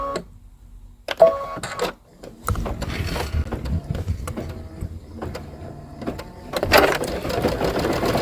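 A sewing machine runs a zigzag stitch in white thread, its mechanical whir starting and stopping in several short bursts with clicks and handling noises between runs, fairly close and loud, with no talking.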